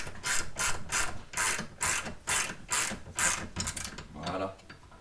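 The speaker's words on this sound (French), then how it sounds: "il suffit de tirer dessus avec la vis et le roulement normalement il vient tout seul" A screw puller draws a bearing onto the crankshaft cone of a Peugeot 103 moped, making a rhythmic ratcheting clatter in repeated short bursts close by, about ten strokes that fade toward the end.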